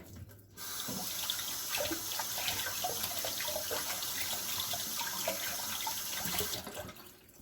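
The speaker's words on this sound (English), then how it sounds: "Wash my hands off." Tap water runs steadily into a kitchen sink for about six seconds while hands are washed during meringue pie making, a close, continuous splashing rush that starts and stops abruptly.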